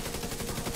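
Rapid burst of automatic gunfire from the video game The Division 2, a dense continuous rattle of shots filling the whole brief moment, loud and without speech.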